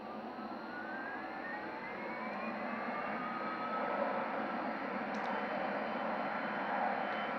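Boeing 787 jet engines roar with thrust reversers deployed in Microsoft Flight Simulator, a loud, steady whine and rumble that swells slightly midway and holds without any talking.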